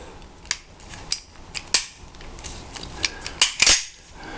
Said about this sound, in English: And then you just gotta drive the pin back in here.